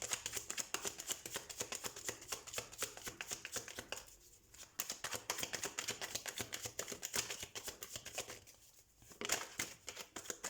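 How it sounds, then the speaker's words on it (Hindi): Tarot cards being shuffled by hand, a rapid continuous riffle of crisp slapping and flicking with two brief pauses, close and soft, with no one talking. "तो हम कार्ड शफल कर लेते हैं"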